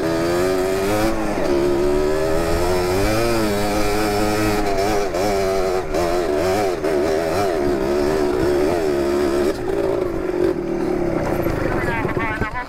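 A motorcycle engine runs steadily on a mountain trail, its drone rising and falling slightly as the throttle shifts, with people talking over it throughout.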